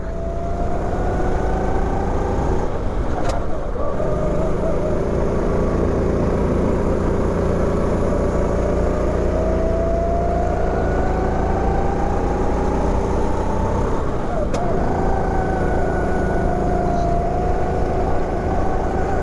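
A go-kart engine drones steadily as it laps a slick track, its pitch rising and falling with the throttle, with a couple of brief sharp knocks along the way and no speech.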